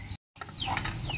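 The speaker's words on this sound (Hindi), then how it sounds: "हमारी असील मुर्गी बाहर निकल चुकी है।" An Aseel hen clucks close by in a short, busy burst of calls. The sound briefly drops out near the start, then continues without talk.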